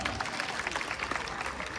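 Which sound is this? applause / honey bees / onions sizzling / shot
applause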